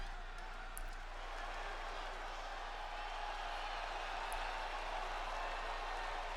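Crowd applause and cheering from an arena audience at a wrestling event in the video game WWE 2K24, a dense, steady roar of clapping held at a moderate distance throughout.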